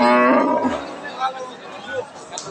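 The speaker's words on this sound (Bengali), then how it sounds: "গরুটা কিন্তু আমরা দেখছি একবার ফ্রিজিয়ান জাতের গাভী" A Friesian cow at a busy cattle market lets out a loud, close moo that tails off, followed by the murmur of people talking nearby.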